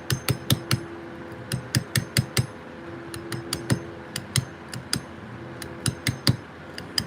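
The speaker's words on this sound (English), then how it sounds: "Starting off with a little hammer, a little 600 gram dummy hammer" A 600 gram dummy hammer strikes a stone carving in a workshop: sharp, ringing taps in quick bursts of three or four, close and steady throughout.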